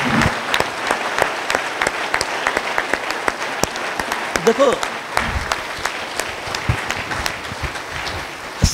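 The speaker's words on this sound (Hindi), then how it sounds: "तालियां।" Audience applause at a yoga ashram inauguration ceremony, sustained and steady with dense clapping throughout, close and fairly loud, with a brief spoken word over it.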